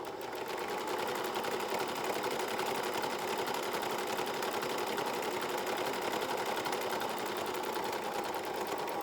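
A sewing machine runs in one steady, continuous burst as it stitches the seam of a fabric face mask, a fine even whir with no pauses.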